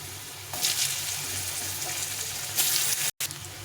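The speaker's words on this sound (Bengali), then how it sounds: "প্রথমে আমি আলুটা ছেড়ে দেবো দিয়ে এক এক করে সব সবজিগুলো দিয়ে দেবো আলুটা একটু ভেজে নেব" Potato pieces frying in a pan, a steady close sizzle with brief louder bursts and a short break near the end.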